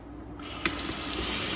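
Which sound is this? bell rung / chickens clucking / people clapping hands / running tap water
running tap water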